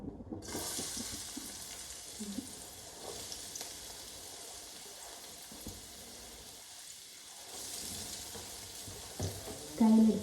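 Sliced onions crackle and sizzle steadily in hot oil, a continuous frying hiss with occasional stirring scrapes, close and fairly loud with no talk.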